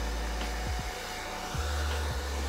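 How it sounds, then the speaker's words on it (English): A hair dryer blows steadily and loudly up close while drying natural hair, its motor hum dipping and shifting pitch a few times as it is moved or switched, with no talking. "I'm going to finish blow dry my hair."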